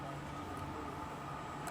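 A former London Underground District line tube train sits at Ryde Pier Head, giving a low, steady mechanical rumble and hum at moderate distance with no talking.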